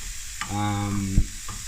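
Lean bacon frying in a pan with a touch of olive oil for carbonara, a close sizzle with a stirring scrape and a brief squeaky tone partway through.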